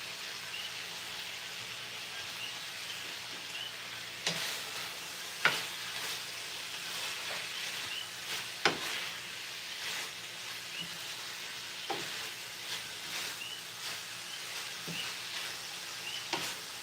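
Garlic and onion fry in a pan with a steady, close sizzle, broken by several sharp clatters as the pan is tossed and stirred.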